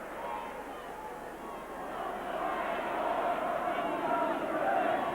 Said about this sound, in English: The crowd here are baying for more points.